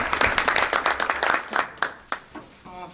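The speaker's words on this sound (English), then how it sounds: "how about a round of applause for the great music we just got?" A crowd applauding at a school district meeting after a music performance, dense clapping that thins out and fades over a few seconds, with a voice briefly heard near the end.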